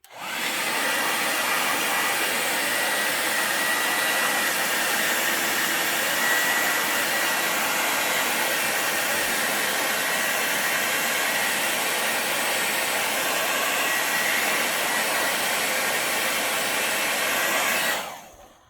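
A heat gun blows hot air onto Kiwi extended grips, a loud continuous roaring hiss that holds steady for nearly the whole stretch before switching off.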